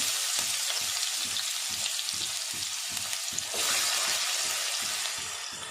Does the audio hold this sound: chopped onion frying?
yes